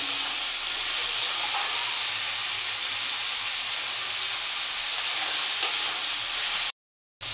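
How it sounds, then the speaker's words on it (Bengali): Potato, papaya, carrot and chillies hiss and sizzle steadily in hot oil as they are stirred in a pan, with a soft continuous frying wash and an occasional faint clink. "তো এই সবজিগুলো একটু আমি তেলের উপরে নাড়াচাড়া করে নেব"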